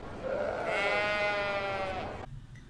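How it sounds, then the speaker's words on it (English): One long, wavering bleat from a sheep or goat, fairly close but quiet, over a steady hiss of background noise. "Sheep and goats bleat."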